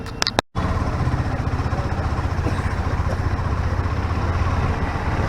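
A KTM 390 Adventure motorcycle sets off on a ride, its engine pulsing steadily and fairly loud with a rhythmic low throb after a brief clunk and a sharp cut at the start.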